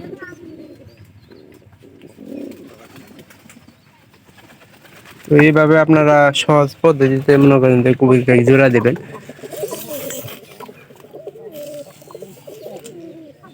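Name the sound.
pigeons cooing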